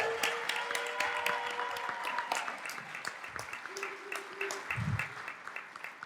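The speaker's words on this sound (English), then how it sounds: "So now you can clap." A school district governing board meeting breaks into applause after a motion passes unanimously: steady, dense clapping from the room that holds at an even level throughout, with a few voices murmuring underneath.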